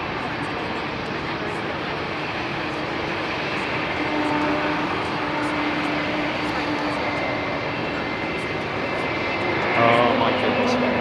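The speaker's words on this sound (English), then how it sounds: "That we filmed that aircraft in Anchorage." A jet airliner engine roars steadily at London Heathrow Airport in the evening, a loud sustained rumble that swells slightly near the end, with people talking excitedly over it.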